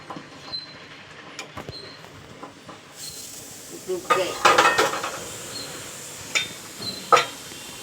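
Grated coconut being stirred into a chana dal and coconut curry in a pot, with scraping, clinking metal-on-pot sounds and a faint sizzle, busiest toward the middle and end.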